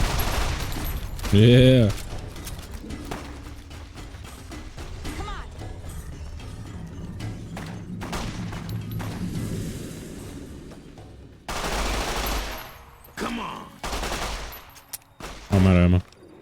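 Video game gunfire, a scattered series of sharp shots and bursts across the span, with a louder cluster late on, mixed with mechanical clicks and brief speech.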